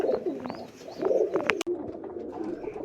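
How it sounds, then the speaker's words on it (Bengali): Large cream-coloured domestic pigeons, a breeding pair, coo in soft repeated throaty phrases close by, with a few faint chirps and light background noise. "মাশাল্লাহ এক জোড়া ঘিয়া চুল্লি কবুতর দেখতে পাচ্ছেন, অনেক বড় সাইজের"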